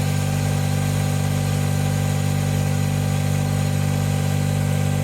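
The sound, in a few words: John Deere 1025R tractor engine running at 2,000 RPM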